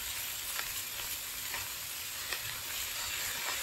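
Peppers, mushrooms and carrots stir-fried with sauce in a pan, giving a steady close sizzle broken by periodic stirring scrapes.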